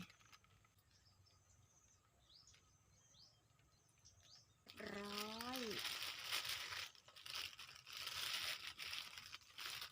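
A plastic bag crinkles steadily as it is wrapped around a papaya branch graft outdoors. Faint bird chirps are heard first, then the rustling comes in close and continues.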